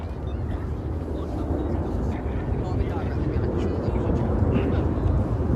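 Red Arrows jets at an air show shift into a Delta formation, their engines a continuous, steady roar that fills the whole stretch without breaks, heard from a distance with the wide wash of open air.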